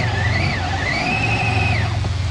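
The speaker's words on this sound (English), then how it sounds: "You give it more throttle, and it goes more." Electric motors of a 24V ride-on toy ATV whine steadily under throttle, the pitch rising and holding high before sliding away near the end, loud and close.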